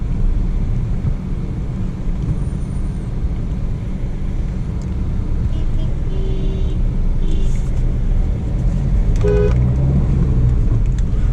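A tuned Suzuki S Cross is driven, its engine drone and road rumble filling the cabin loudly and steadily, with faint clicks and small tonal beeps over it.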